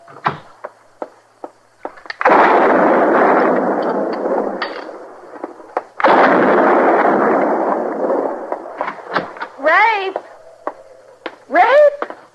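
Gunshots ring out near a cabin in an old-time Wild West radio drama, two loud blasts with long rolling echoes amid sharp clicks, followed by brief vocal sounds.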